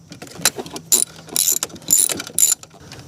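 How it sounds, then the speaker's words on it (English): Hand tools clatter onto a metal tool cart in a driveway during a Ford Edge brake booster repair, with several sharp metallic clanks and rattles in quick irregular bursts, close and fairly loud. "I just throw them all in a pile back on the tool cart."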